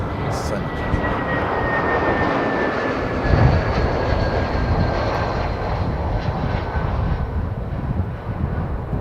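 A fixed-wing aircraft landing at an airport, heard from a nearby viewing mound: a steady, broad engine roar with a faint high whine, sustained and fairly loud throughout with wind noise mixed in.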